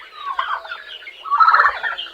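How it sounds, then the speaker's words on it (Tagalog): Free-ranging pet chickens at a backyard coop are heard during feeding time, with busy, overlapping fowl calls and warbling gobble-like vocalizations that swell and fade across the moment, fairly close and with nobody talking. "nagpapakain kami ng ating mga alagang manok"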